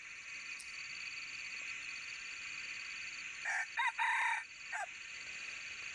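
A fighting rooster crows once, loud and close, its call rising and breaking over a steady hiss of background noise.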